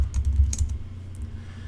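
Keys tapped on a computer keyboard while entering a password at a virtual machine login, a quick close run of light clicks in the first second, then fainter scattered taps over steady room hum.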